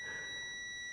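A multimeter's continuity tester beeps while checking an automotive fuse, a steady, unbroken electronic tone held for the whole second, clear and close with no talking.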